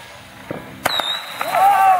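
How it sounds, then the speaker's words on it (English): Fourth of July fireworks crack sharply twice close together, with a whistling rocket rising toward the end and faint pops before, while someone talks lightly in the background. "Blowing off fireworks."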